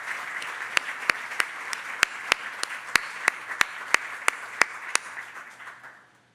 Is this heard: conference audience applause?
yes